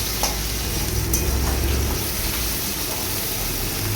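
Onion paste fries in a pan for a Bengali aar fish curry, a faint, even hiss of sizzling that stays low and steady, with no one speaking.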